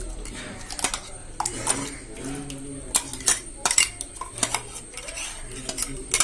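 A spoon clinks and scrapes against a metal pot while ground masala is stirred into coconut milk for coconut rice, giving irregular light taps and stirring sounds with a steady hum underneath.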